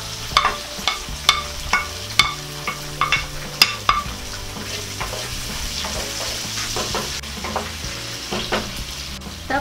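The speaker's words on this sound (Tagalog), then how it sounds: "Tapos isusunod na natin ang ating bawang." Garlic sautéing in a pan with onion for chicken hamonado, a constant sizzle punctuated by sharp repeated clinks of a utensil stirring against the pan, no talk.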